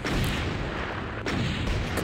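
Rapid gunfire from an aircraft in the River Raid 3D arcade game, a dense steady stream of loud shots with bursts around the start and near the end, no talk.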